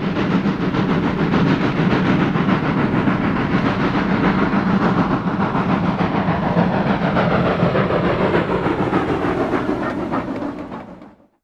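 Norfolk and Western Class M steam locomotive number 475 in full railroad dress, heard as a loud, steady rumble of rolling train with rhythmic clatter and hiss that holds for most of the stretch before quickly fading out at the end.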